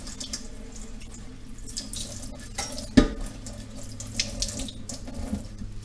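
A knife forged from about 72 layers of steel is rinsed under a running kitchen tap, with a steady close stream of water splashing into the sink and one sharp knock partway through.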